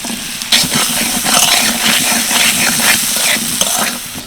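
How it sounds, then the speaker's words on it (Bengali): Chicken pieces with chopped carrot stir-fry in a pan, a steady close sizzle with repeated scraping strokes of a spatula throughout, no talking. "চিকেনটা হালকা নেড়ে চেড়ে নিয়েছি এবার দিয়ে দিচ্ছি অল্প একটু নুন"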